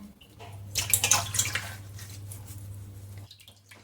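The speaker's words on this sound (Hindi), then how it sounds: "इनको हम इनमें डाल के अच्छे से फिर से एक बार धुल लेते हैं" Water splashes and sloshes in a bowl as pieces of suran (elephant foot yam) are swished around, close up, then drips and trickles off before quieting.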